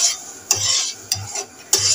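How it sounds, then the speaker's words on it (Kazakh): A spoon stirs sugar into boiling water in a pot for homemade lollipops: three scraping swirls in a steady rhythm, each opening with a sharp clink against the metal, close and clear, over a faint bubbling sizzle. "Осылай жақсылап араластырамыз"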